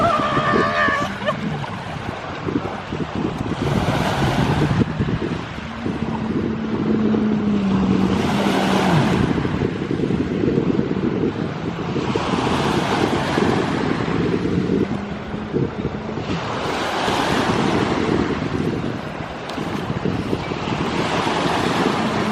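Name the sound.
beach with ocean waves and wind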